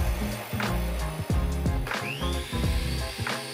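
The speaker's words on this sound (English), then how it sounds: "I clamped all 4 pieces together and ran the opposite end through the saw" A table saw cuts four clamped wooden pieces to length for shoe rack bench legs, a loud, steady whirring with repeated bursts as the blade bites through the wood.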